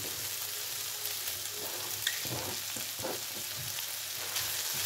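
Onion fries in a pan, a steady close sizzle broken by several scraping stirs, with no talk.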